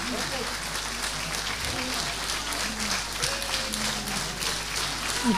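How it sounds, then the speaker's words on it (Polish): Audience applause at a Women's Day concert, a steady dense wash of clapping held throughout, with a voice speaking over it. "Wielkie brawa dla naszych uczestników jeszcze raz."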